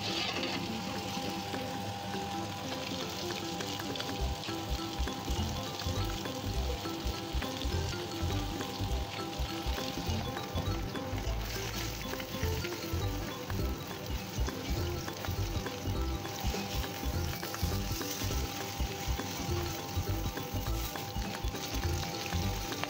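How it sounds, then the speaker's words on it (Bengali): Rohu fish pieces frying in oil, a steady dense sizzle and crackle that runs without a break, fairly close and even in loudness, with a low rumble underneath and no speech. "এবার তুলে নিয়ে বাকি মাছগুলো ভেজে নেব"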